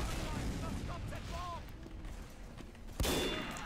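Sniper rifle fire in Team Fortress 2, game noise with a sharp loud crack of a shot near the end, set against background battle sounds.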